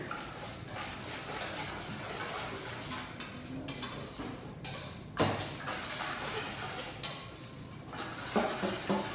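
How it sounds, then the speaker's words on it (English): Vegetables coated in brown sugar are stirred in a pan at a cooking demo, giving repeated scraping and clinking of a utensil against cookware over a steady background hiss, with occasional thuds. "And now we're ready to give that a stir"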